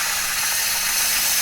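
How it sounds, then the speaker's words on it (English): A Karcher SC3 steam cleaner blows a loud, steady hiss of steam at close range, a continuous broadband rush with no pauses and no talk. "once you have a nozzle on it, you're basically constantly getting steam"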